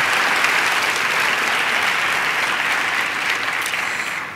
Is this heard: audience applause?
yes